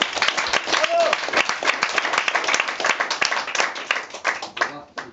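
A student improv theatre audience gives dense, steady applause as an actor leaves the scene, sustained and fairly loud throughout with a voice briefly audible over it.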